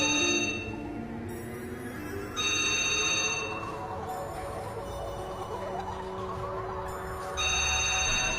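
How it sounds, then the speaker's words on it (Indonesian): A telephone rings in an office, electronic ringtone bursts sounding in separate spells over a low, busy background, moderately loud and with no voices on top. "sebuah telepon tiba-tiba berdering"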